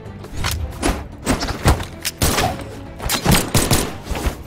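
Rapid gunfire bursts and thuds from the fighting game Brawlhalla pop in uneven clusters, loud and close, filling the moment with staccato action.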